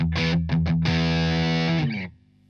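An electric guitar runs through a Boss BD-2 overdrive pedal in a classic rock tone: a few short driven picked notes, then a sustained distorted chord ringing for over a second before being cut off, loud and close.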